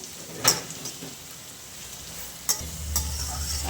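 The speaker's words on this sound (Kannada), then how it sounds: "ಇನ್ನೊಂದು 2 ನಿಮಿಷ ಫ್ರೈ ಮಾಡಿ" Mixed vegetables fry in a pan for restaurant-style kadai veg, a soft steady sizzle with a couple of sharp stirring clinks, close and fairly quiet, no voices.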